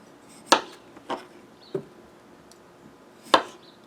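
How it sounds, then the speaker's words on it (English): A knife cuts skin-on potatoes into thick thirds on a board, four crisp separate chops spaced out over a few seconds, close and fairly loud against a quiet room. "I'm going to cut them into slices, thirds, with the skins on."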